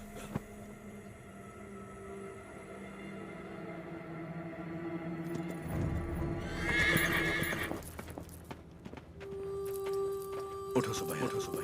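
Horse hooves clip-clopping at a steady pace under a dubbed movie scene, with a horse neighing partway through amid music and background noise; voices speak over parts of it.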